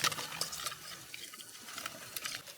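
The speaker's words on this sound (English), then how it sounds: "Clean mountain water was perfect for washing both the catch and our cooking gear." Fish and cooking gear being washed in clean mountain water at a rainforest camp in Vietnam, with close, irregular splashes and trickling, soft sloshing between brief louder dips, no speech.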